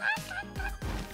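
A chicken clucks in the physics game Turbo Dismount, giving two or three loud, close squawking calls in quick succession within about a second.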